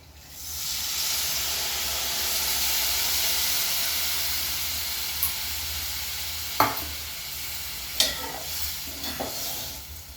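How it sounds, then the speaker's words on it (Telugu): Tamarind juice hits a hot pan of stuffed brinjal curry and sets off a loud, steady sizzle and hiss, with a few sharp clinks of a spoon or ladle stirring near the end. "ఇప్పుడు మనం చింతపండు పులుసు వేసుకుందాం"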